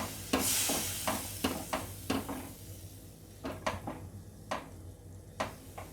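A spoon stirs kala chana kadhi, a yogurt curry with black chickpeas and fenugreek, in a pot on the stove. Scrapes and clinks against the metal come at an uneven pace over a soft bubbling simmer.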